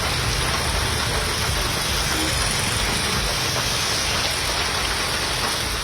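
Heavy downpour on flooded roads around the collector's office and old bus stand in Tiruppur, Tamil Nadu, with vehicles crawling through standing water: a steady, dense wash of rain hiss with a low engine rumble underneath, unbroken throughout.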